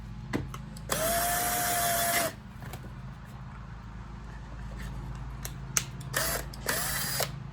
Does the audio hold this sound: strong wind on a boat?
no